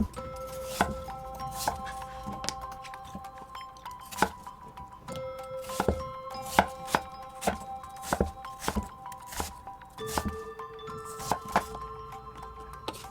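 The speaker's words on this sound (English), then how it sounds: "it's time to start chopping the apples to make the filling" Steady knife chopping of apples on a cutting board, sharp thunks repeating in an uneven rhythm, close by, with a faint tonal hum underneath and no talking.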